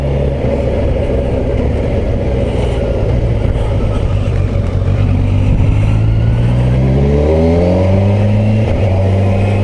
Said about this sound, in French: j'essaye une Kawasaki 1000 Versys, la version SE